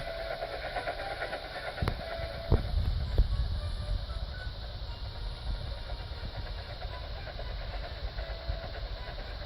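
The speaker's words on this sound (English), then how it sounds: "he puffed happily along his branch line with Annie and Clarabel" A steam train rumbles steadily along the rails with a continuous low roar, and a few sharp clanks stand out early on.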